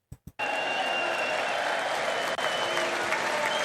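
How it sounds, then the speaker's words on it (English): Two quick isolated claps, then a dense, sustained burst of applause from many hands at the State of the Union address that fills the rest of the clip at steady loudness. "She's the only one clapping."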